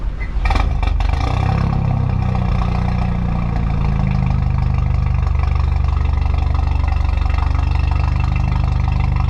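An Audi S3 starting for the first time with a new IE exhaust, valves open: a quick crank catching into a loud, deep burble that settles into a steady rumbling idle, close by with no talk.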